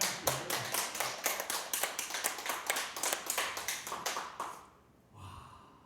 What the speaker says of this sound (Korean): 이럴 때는 박수 쳐야 되는 거야 하나님께